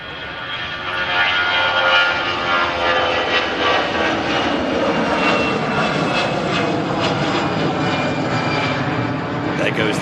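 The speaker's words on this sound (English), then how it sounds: "There goes the Lufthansa A380 heading back out to Munich" Lufthansa Airbus A380 taking off from the airport, bound for Munich, a loud sustained engine roar that holds steady throughout with a broad, rumbling wash.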